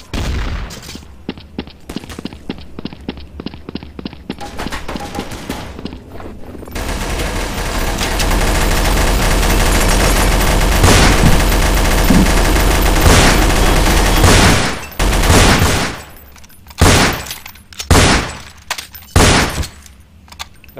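Counter-Strike: Source gunfire: a long sustained burst of automatic fire, then a string of separate loud, sharp shots with short gaps between them, close and dominant.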